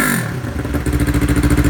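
A Yamaha R3 motorcycle with a new exhaust muffler idles up to around 5,000 RPM, settling into a loud, close, steady pulsing engine note with a rapid rhythmic exhaust throb.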